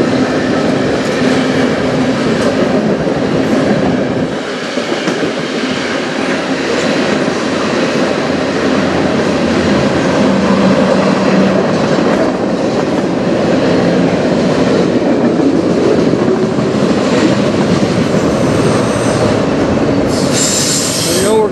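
A CPKC freight train with open-top cars rolls past the Denfield Road Bridge in London, Ontario, a loud, continuous rumble of wheels on rails with steady clatter and occasional squeal, close by and sustained throughout.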